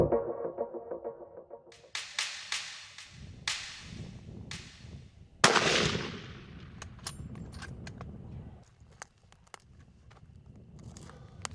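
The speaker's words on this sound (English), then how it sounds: "steady the crosshairs on the black buck, and he took the shot" One sharp, loud rifle crack rings out midway through a blackbuck hunt in the Texas Hill Country. Faint clicks and shuffling come before it, and a quieter rustle trails after.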